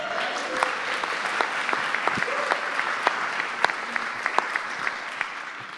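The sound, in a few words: audience applause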